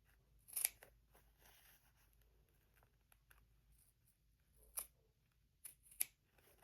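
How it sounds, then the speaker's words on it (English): Scissors snipping into fabric corners while sewing a travel jewelry wallet, a few sharp close crisp cuts spaced apart against quiet background. "we're going to use a scissor and cut right into the corners and make a V for each end of our zipper openings."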